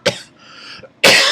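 Close, loud coughing from one person: a sharp first cough, a short raspy breath, then a second harsh burst at the end, with no talk around it.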